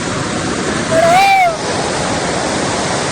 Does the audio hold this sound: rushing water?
yes